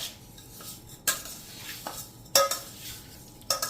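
Spoon scraping and clinking in a pot as jaggery is mixed into cut raw mango for a sweet Gujarati pickle, with a few sharp metallic knocks spaced apart, close and fairly quiet.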